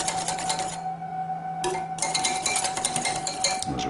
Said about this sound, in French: Et je remue pour la délayer, la faire fondre dans mon coulis tiède.